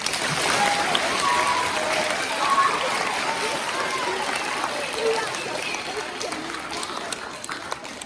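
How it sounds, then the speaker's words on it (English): Sustained applause from a school assembly of children, a dense, even wash of many hands clapping that carries on steadily for several seconds without a break. "Please give Mr. T another round of applause."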